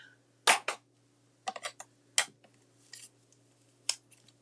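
Scissors cutting out a colored paper image for a Christmas card, heard close as several sharp, separate snips and crisp paper crackles set apart by quiet pauses, with no voices.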